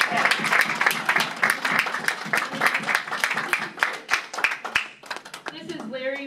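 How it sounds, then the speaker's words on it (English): An audience gives standing veterans a round of applause, brisk, close clapping that thins out toward the end as a voice begins speaking. "Let's give them a round of applause."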